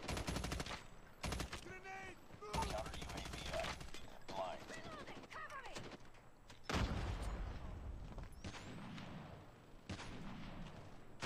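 Rapid gunfire bursts from Call of Duty Mobile during a ranked match, loud repeated shots and automatic volleys in clusters, with someone talking excitedly over the shooting.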